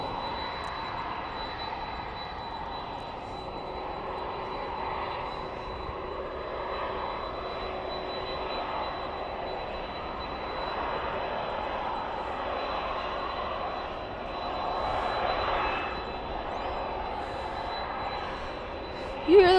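Airliners passing at Dallas/Fort Worth International Airport at night, heard as a steady, moderately loud jet rumble that swells slightly around the middle and stays continuous throughout.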